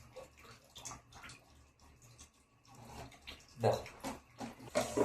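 Water is poured and splashes into an air cooler's tank in uneven bursts, growing louder toward the end, with no talking.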